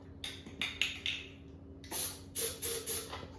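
Several short hissing bursts of an aerosol can of brake cleaner, some brief and some longer, close by and fairly quiet against a low background hum, sprayed on a 1971 IH Cub Cadet 126 tractor.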